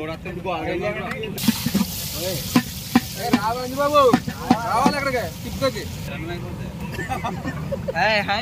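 Biryani curry being stirred in a pot at a late-night outdoor cook-up, scraping and sizzling steadily up close while several people talk loudly over it throughout.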